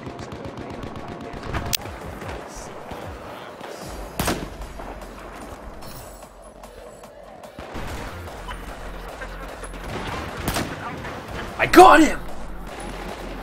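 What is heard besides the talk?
gunfire in the video game Battlefield 4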